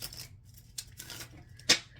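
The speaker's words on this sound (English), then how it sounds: "Spirit, I am shuffling for our Leo viewers." Tarot cards are shuffled close by, giving quiet papery riffles and soft slides in a few bursts, ending with one sharper snap of the deck.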